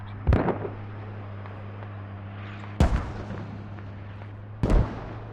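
Mortar rounds in the military shooter Squad land in three heavy booming impacts spaced a couple of seconds apart. Each one arrives as a sharp blast with a rumbling tail over a steady low engine-like drone.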